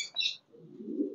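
Pigeons kept as pets, including a short-faced pigeon, give a soft close coo followed by a low throaty rumbling coo, brief and unaccompanied by talk.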